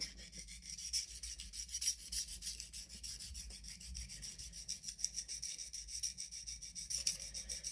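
A paring knife is sharpened on a diamond stone with light pressure, a continuous gritty scraping rub in steady back-and-forth strokes, close and quiet, with no talking.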